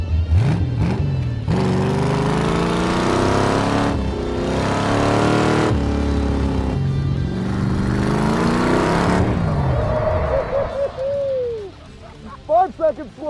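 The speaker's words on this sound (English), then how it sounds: "the go-kart is light, it is nimble, it accelerates good" A small go-kart engine revs up and down repeatedly as the kart accelerates on a track, loud and close, with brief squeals near the end.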